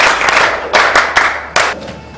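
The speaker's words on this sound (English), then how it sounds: "A round of applause for her!" A small group in a room gives a short round of applause, several close hands clapping in uneven bursts that swell and fade over a couple of seconds.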